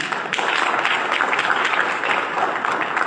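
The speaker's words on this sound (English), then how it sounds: "give yourselves a round of applause" A mayoral forum audience in Cleveland breaks into sustained applause, a dense, steady wash of many hands clapping close by for the full stretch, with no talk over it.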